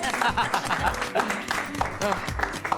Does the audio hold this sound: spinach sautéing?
no